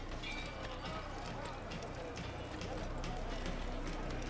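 Rapid hoof clip-clops of a galloping horse in the Assassin's Creed 1 video game, a quick continuous rhythm at low game volume beneath dense ambient background sound.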